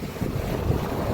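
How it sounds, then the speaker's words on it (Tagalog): Rough sea and strong wind during a typhoon, a brief burst of heavy wind buffeting the microphone over surging water, loud and close, with no voices. "Malakas na po yung dagat."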